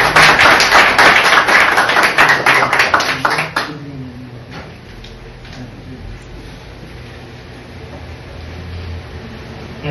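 An audience applauds loudly at a community event for more than three seconds, then the clapping ends abruptly and gives way to a low murmuring room with some faint movement.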